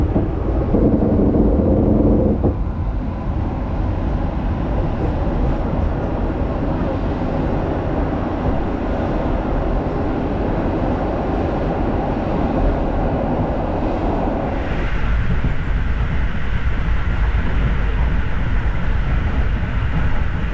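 Steady, loud cabin rumble aboard a connecting train travelling from Poznan to Krakow in Poland, continuous throughout with a slight shift in tone late on.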